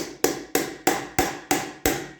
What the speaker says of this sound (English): I put this nut on backwards and I use a small hammer